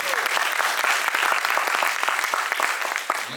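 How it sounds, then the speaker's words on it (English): An audience at a youth entrepreneurship talk claps hands together in dense, steady applause, loud and close, filling the whole moment without pause or speech. "Clap your hands."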